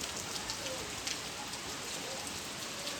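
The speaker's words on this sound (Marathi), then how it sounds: "जोरदार पाऊस चालू आहे." Heavy rain pours down steadily in a village lane, a dense unbroken hiss with nothing else over it.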